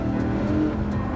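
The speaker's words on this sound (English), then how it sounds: "Coming at this turn, like all these turns, you can really hear this tire squeaking" A Dodge Viper corners through a track turn, its engine droning steadily while the tires squeal faintly under the load, a short continuous stretch with no voices.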